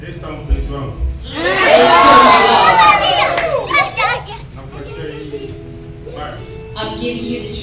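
Guests at an African wedding in Portland, Maine raise a loud, sustained cheer and acclamation to the Lord, full of whoops and high voices, fading into scattered talk.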